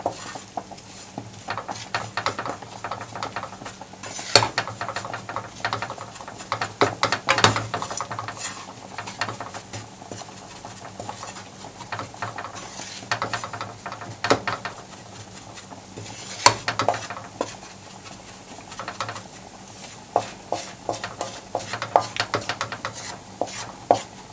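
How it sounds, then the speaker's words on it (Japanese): Curry powder stir-fried in oil in a pan, a soft sizzle under frequent sharp spatula scrapes and taps against the pan, close and irregular, with no talking. "炒めすぎるとカレー粉の風味が飛んでしまいますので、適度に油で炒めます"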